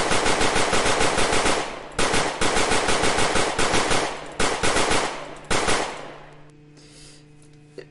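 Rapid automatic gunfire rattles in the zombie video game Zombiehaus. Several loud, close bursts are broken by short gaps, and the firing fades out near the end.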